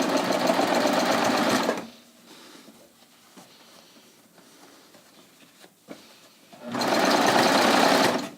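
A sewing machine stitches a jeans hem in two loud, steady runs at the start and end, separated by a quiet pause with faint handling sounds.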